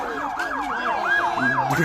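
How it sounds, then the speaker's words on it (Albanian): An ambulance siren wails, sweeping up and down in steady repeated cycles, loud and close, over a continuous traffic rumble as it passes through a protest crowd on a boulevard in Tirana. "Megjithatë protestuesit e hapin rrugën që të kalojë ambulanca."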